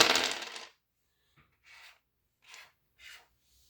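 Six dice rolled in a game of Zilch: a loud initial clatter as they hit the surface, followed by three softer, spaced rattles as they settle, with no voices.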